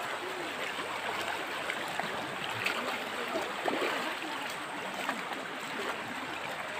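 A river flowing along a rural route, giving a faint, continuous trickling and gurgling wash of water that stays low and steady throughout.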